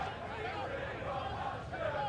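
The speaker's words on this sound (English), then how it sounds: "The crowd are certainly responding to that" A football crowd at a Potters Bar Town v Barnet match, a low, steady murmur of distant spectators under a commentator's voice.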